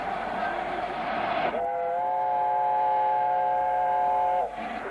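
Visiting Pacific steam locomotive 60019 Bittern, heading a 1966 rail tour, gives one long, steady whistle blast lasting about three seconds, clear and loud over the low rumble of the train as it departs.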